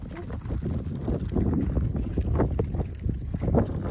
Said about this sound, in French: Il y a trop de vent, bien sûr, dans le couloir que je prends.